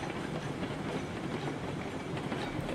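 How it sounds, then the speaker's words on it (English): A train in the video game RailRoads Online rolls steadily along rails with a continuous rumbling clatter, loud and unbroken throughout. "Not actually a bad sized train."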